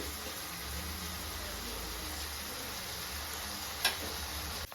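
Moringa leaves fry in a pan for a Telugu-style chutney, giving a steady, even sizzle throughout with a brief clink near the end.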